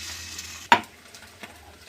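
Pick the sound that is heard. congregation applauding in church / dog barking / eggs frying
eggs frying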